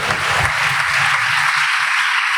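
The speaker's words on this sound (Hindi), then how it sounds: "इन्हीं तालियों की गूंज में जब उसके लिए बज रही हैं" A congregation at a church service claps and applauds in a dense, continuous wash of sound that stays loud and steady throughout.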